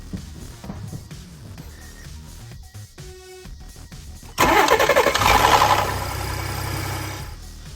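A 2018 Ford Expedition engine cranks and fires up after some quieter background noise, then runs loud and rough with a metallic timing chain rattle at startup from the chain tensioners before settling.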